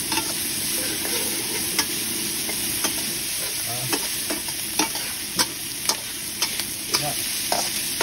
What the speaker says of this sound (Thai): เครื่องผัดเริ่มมีสีสันแล้วแดงนะครับผัดชาต้องเผ็ด